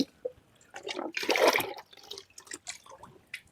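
Liquid fertilizer poured from a container onto tomato plants in a home garden, a brief splashing gush with a few drips around it, close and fairly quiet.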